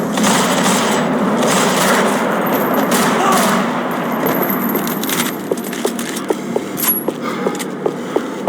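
Gunfire in the Max Payne 3 video game, a dense, loud burst of automatic shots and clattering impacts that thins out into a run of sharp, evenly spaced single clicks near the end.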